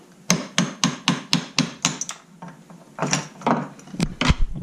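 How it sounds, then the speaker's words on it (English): Tool prying a lid off a fuel part from a 1972 BMW 2002, a close series of sharp metallic taps and knocks followed by scraping and rattling. "we're gonna pop this lid off here"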